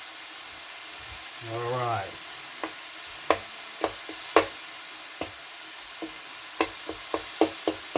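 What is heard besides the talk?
meat sizzling and frying on a griddle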